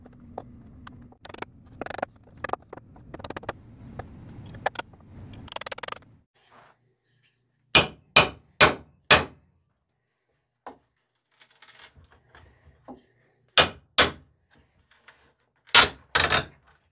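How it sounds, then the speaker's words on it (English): A hammer and pry bar pull nails from salvaged framing lumber, sharp wooden knocks and metallic taps in irregular clusters with quiet gaps between, fairly close and distinct. "I use the side of my hammer and my pry bar right here."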